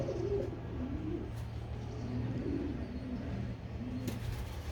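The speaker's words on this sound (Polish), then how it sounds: "albo żałobniki te perłowe też siedziały razem, teraz już nie siedzą" Diamond doves, also called pearl doves, give soft repeated low coos in a steady rhythm, close by, with faint background hum and no talking.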